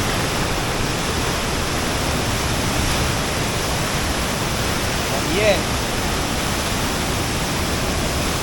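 Cane River Falls in Jamaica roars as a steady, dense wash of falling water, broad and unbroken throughout, with a voice speaking briefly and faintly over it.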